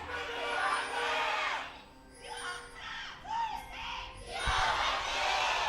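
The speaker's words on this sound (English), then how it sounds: "audience there cheering them on with everything that they can possibly muster into their voices" A large esports arena crowd at a Korean LCK Spring 2018 League of Legends match, MVP versus SK Telecom T1, roars and cheers in loud sustained waves that dip briefly and then surge again, with shouts and whoops mixed in.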